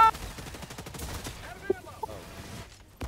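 Rapid bursts of gunfire from the co-op shooter Helldivers 2, crackling in quick repeated shots with a couple of sharper cracks, played under ongoing game noise and players talking.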